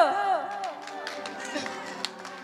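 Audience applause for the fourth runner-up at the Miss Tizi Ouzou 2018 beauty pageant crowning, steady clapping running under a host's amplified voice and music throughout.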